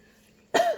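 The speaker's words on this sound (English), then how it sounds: "dry cough" A single short, dry cough, loud and close, breaking sharply out of near silence.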